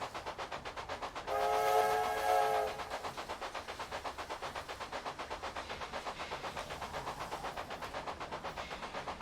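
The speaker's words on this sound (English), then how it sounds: "with a click of the mouse, you can blow the whistle." A steam-style train whistle blows once in the Railway Empire video game, a loud sustained tone of about a second and a half over a steady, rhythmic clickety-clack of wheels that continues alone afterward.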